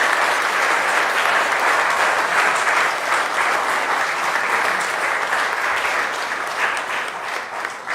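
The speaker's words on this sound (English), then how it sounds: "a big round of applause to entire organizing team for this entire district" A conference audience of several hundred applauds continuously, a dense, even clatter of clapping hands that holds steady throughout and tapers slightly at the end.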